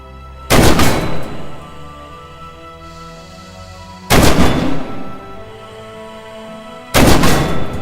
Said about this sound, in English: Deploy the weapon in front of you. Open fire on the tank downrange.